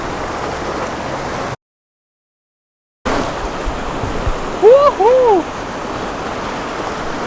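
A mountain stream in Kagoshima rushes with steady broadband water noise, briefly cut out by a gap of silence, while a nearby voice speaks over the flow near the end.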